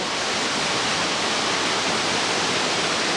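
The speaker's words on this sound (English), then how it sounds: "water pours out through the balconies" Water pours down from hotel balconies as a dense, unbroken roar, loud and steady like a close waterfall, with no voices.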